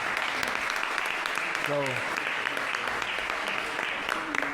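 A council meeting audience applauds Faye's team, dense steady clapping filling the room for several seconds while a voice speaks briefly over it.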